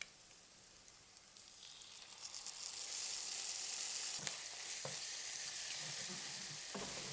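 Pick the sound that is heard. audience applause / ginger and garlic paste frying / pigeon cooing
ginger and garlic paste frying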